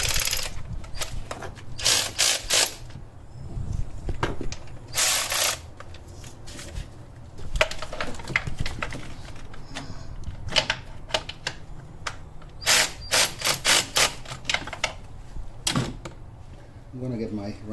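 A ratchet spins out the valve cover bolts on a 5th-gen Toyota 4Runner with a 4.0L engine, sharp bursts of close clicking in short runs separated by pauses and faint handling noise.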